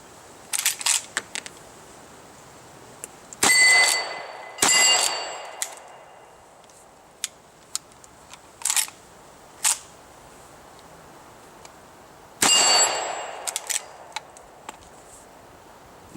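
Rossi R92 lever-action rifle cycled with a short stroke, a scattered series of sharp metallic clicks and clacks with a few louder ringing clanks over a quiet background.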